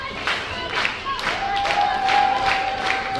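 Wrestling match crowd applauding and cheering at moderate loudness, a steady wash of clapping and shouts with a sustained whistle-like tone running through the middle.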